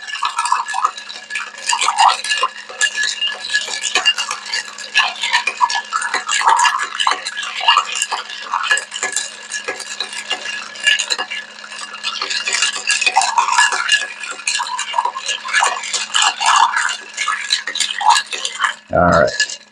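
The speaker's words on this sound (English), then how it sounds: "Now we're going to stir that for about 30 seconds or so, just until we get it nice and chilled" Ice clinks and rattles steadily against a mixing glass as a Sazerac cocktail is stirred, a close, busy tinkling that runs nearly the whole time and ends with a brief knock.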